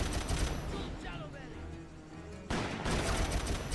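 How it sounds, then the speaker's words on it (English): A Gatling gun fires in the Western shooter Call of Juarez: loud, dense rapid bursts at the start, a brief lull with ringing decay, then another sustained burst of fire toward the end. "Oh, gee, I wonder if the game wants us to use this Gatling gun here."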